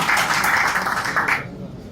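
An audience welcoming a speaker at an event gives a steady burst of clapping that carries for about a second and a half before fading into quiet.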